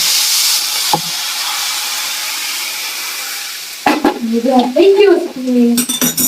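Hot oil hisses quietly after a single short tap, then erupts into a loud, crackling sizzle as leaves hit the pan.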